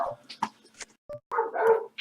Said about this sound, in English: These dogs have been barking for about 15 hours right now.